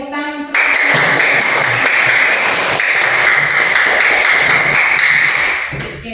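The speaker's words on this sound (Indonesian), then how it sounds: "Oke, tepuk tangan untuk" Schoolchildren in a classroom clap together in a loud, steady burst that starts abruptly and fades out after about six seconds.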